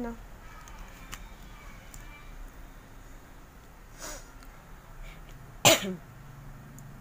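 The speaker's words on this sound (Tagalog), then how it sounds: "Inuubo po kasi ako." A single sharp cough bursts out near the end, loud and close, after a quieter stretch with a faint breathy sound midway.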